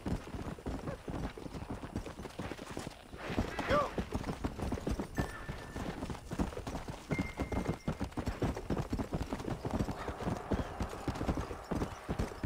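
Horse hooves clip-clop steadily in Red Dead Redemption, a continuous run of loud, close hoofbeats with a brief whinny, while someone talks over them at intervals.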